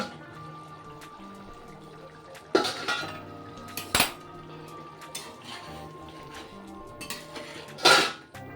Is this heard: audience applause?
no